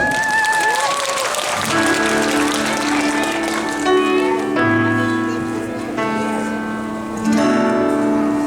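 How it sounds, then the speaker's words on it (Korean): Applause from the audience at a kindergarten talent show fills the room, blended with music and voices, steady and fairly loud throughout. "박수 주세요"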